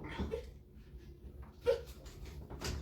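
A dog whimpers and whines indoors in a few soft, high, brief cries separated by quiet breathing, ending with a louder sharp burst close by.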